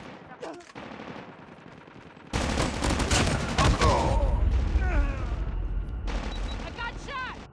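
Loud bursts of automatic fire from a PDW 57 in a hardpoint match on the Hotspot map of a video game, rattling rapidly after a quieter stretch, with game voices and radio callouts over the shooting.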